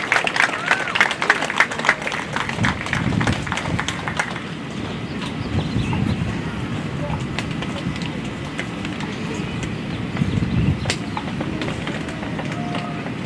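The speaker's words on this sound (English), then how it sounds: "let's give them one more round of applause" An audience at an elementary school awards ceremony applauds in sustained, dense clapping that swells and fades over several seconds, with some voices mixed in.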